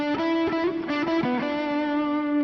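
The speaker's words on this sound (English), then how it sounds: "I like the distorted tones." An electric guitar played with a heavily distorted, effects-laden tone, a few sustained notes and quick slides ringing out loud and close, with no talking.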